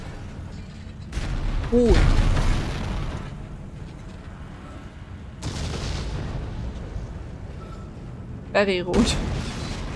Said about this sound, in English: Stop exploding next to me.